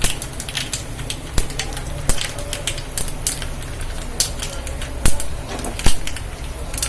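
Mustard seeds crackle in hot oil with urad dal and asafoetida, giving scattered sharp pops and sizzling ticks at an irregular pace, close by with no talking.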